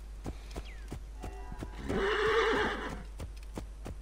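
A poisoned horse in Assassin's Creed Origins gives a loud, drawn-out whinny midway, framed by a steady clip-clop of hooves before and after.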